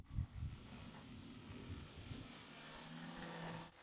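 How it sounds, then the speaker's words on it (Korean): A remote-control VTOL airplane flies away after switching from hover to forward flight, its engine or propeller hum steady and moderately loud, gradually receding with the distance. "비행기가 저에게서 멀어지며 가속할 때"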